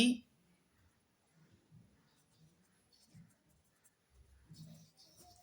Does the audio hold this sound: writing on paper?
yes